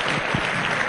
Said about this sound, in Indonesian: Tepuk tangan, susah itu.